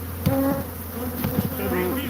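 Honey bees nesting inside the drum of an old washing machine give a steady, close, dense buzz, with faint knocks over the top of it.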